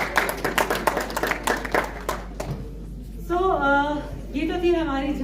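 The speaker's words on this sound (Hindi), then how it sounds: "ये सारे बच्चों के जो तुर्तुक से आए हैं, इतने टैलेंटेड बच्चे, सबके लिए शायद से तालियां तो बनती है जोर से" An audience claps loudly for children from Turtuk at an app launch event in Ladakh, a burst of distinct claps lasting about two seconds before a voice begins speaking.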